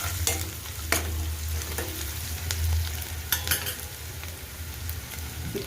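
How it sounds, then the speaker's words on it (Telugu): Softened onions sizzle in a pan with turmeric and a little salt as a spoon stirs them, steady close frying hiss punctuated by several sharp scraping clicks of the utensil against the pan. "ఉల్లిపాయలు మగ్గుతున్నాయి కదా, దీంట్లోకి పసుపు, కాస్త ఉప్పు వేసుకున్నాం. ఒకసారి కలుపుకోవాలి."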